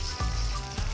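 Food sautéing in a hot pan gives a steady soft sizzle, with a couple of brief low thumps of the pan or utensil, close by and without speech.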